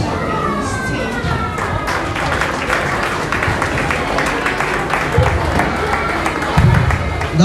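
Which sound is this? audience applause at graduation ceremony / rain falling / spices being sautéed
audience applause at graduation ceremony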